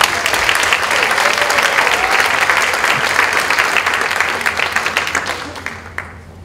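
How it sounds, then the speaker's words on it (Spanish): An audience at a round-table event on human values education bursts into sustained applause, dense and steady, then thins into scattered claps as it fades out near the end. "Un aplauso, por favor."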